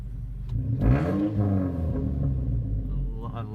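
A first-generation Mazda 3 engine rumbles deeply through its exhaust, swelling briefly as it revs, then settling into a low idle.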